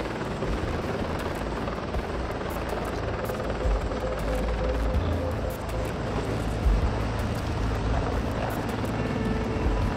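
A CH-53 Super Stallion heavy-lift military helicopter gives off a loud, steady rotor-and-engine roar that fills the whole stretch without letup.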